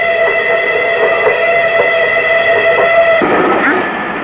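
A train pulls into a station with a loud, sustained horn blaring steadily over rumbling wheels and rhythmic rail clatter, the tone shifting near the end as it draws close.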